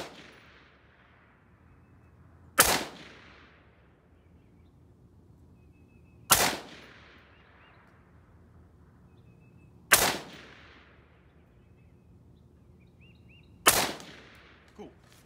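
Five rifle shots ring out from a gun rested on a bag while zeroing an offset dot on a Badger Ordnance C1 mount, sharp loud cracks spaced evenly about four seconds apart with quiet gaps between.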